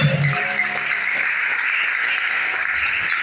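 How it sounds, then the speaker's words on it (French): A church congregation cheers and applauds for Jesus during a worship service, a steady wash of clapping and crowd noise holding for the whole stretch with no clear break. "Je voudrais que tu acclames très fort pour Jésus."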